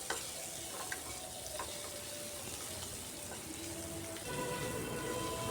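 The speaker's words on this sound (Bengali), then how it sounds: "কাশ্মীরি লাল লঙ্কার গুঁড়াটা দিয়েও আলুকে হালকা ভেজে নিচ্ছি" Boiled potatoes for aloo dum sizzle lightly in a pan with Kashmiri red chilli powder and turmeric, a soft, continuous frying crackle that grows slightly louder near the end.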